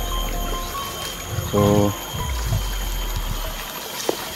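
Rushing stream water washes out soil, a continuous noisy flow close by, with someone speaking briefly over it.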